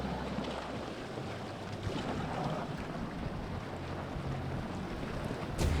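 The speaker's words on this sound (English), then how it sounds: "The breeze is even stronger at the start of race two" Strong breeze over racing 505 dinghies in San Francisco, a continuous roaring wind rush with buffeting microphone noise and water wash, loud and steady, with a sharper gust right at the end.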